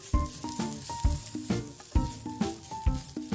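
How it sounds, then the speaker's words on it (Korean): Minced garlic, green onion and fish cake stir-frying in oil, with a bright sizzle broken by rhythmic, fairly loud scraping and tapping of a utensil against the pan, close up. "다진 마늘과 파를 기름에 충분히 볶고 어묵을 넣고 살짝 볶아줍니다"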